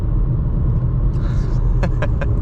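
A 2022 VW Tiago Life with a 5-speed manual accelerates at full throttle, its engine droning in a loud, steady cabin rumble, with a few brief clicks near the end.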